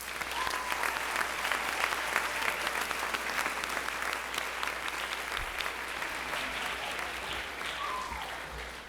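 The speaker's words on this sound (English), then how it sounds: "Please give them a big round of applause." An audience at a high school spring orchestra concert applauds student officers, a dense, steady wash of many hands clapping that holds at an even level for the full nine seconds, with no talk over it.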